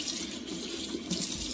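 Hot water running from a kitchen tap in a home, a steady soft hiss of flowing water, fairly quiet and close, with no talking.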